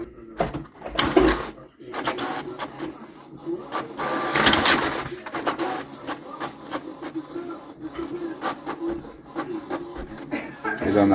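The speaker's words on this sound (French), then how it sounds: "quand vous avez une imprimante qui imprime très lentement" A home printer feeds and prints a page, giving a close, uneven run of mechanical whirs, clicks and rolling carriage passes over about eleven seconds, with a person talking intermittently over the machine.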